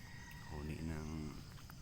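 Steady cricket chirring rings out over a hazy rural morning ambience, joined by a brief low buzzing trill in the middle.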